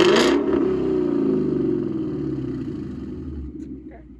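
A warm Ford Mustang 5.0 V8 exhaust revs briefly to about 2000 RPM, then settles into a falling rumbling idle, close and fairly loud, with a voice heard at the start.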